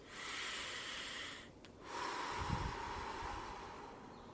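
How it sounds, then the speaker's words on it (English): Slow, deep breathing for stress relief, drawn in through the nose and let out through the mouth: a long soft airy inhale, a brief pause, then a longer hissing exhale, close and quiet. "That simple breathing technique, in through your nose, out through your mouth."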